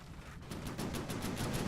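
Cannons shelling in the naval combat game From The Depths, a quick run of repeated blasts at a fairly even rhythm, distant and faint with no talk over them.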